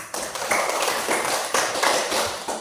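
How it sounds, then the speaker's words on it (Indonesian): Classroom applause after group presentations, a small group clapping in short uneven bursts at moderate distance, fairly quiet and without talk. "Boleh tepuk tangan dulu untuk kita semua?"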